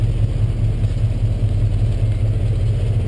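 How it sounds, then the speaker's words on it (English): A 1963 Chevrolet C10 pickup's engine runs steadily outdoors, a low, even rumble with a light clatter, close by and continuous with no talk. "Truck sounds great out here."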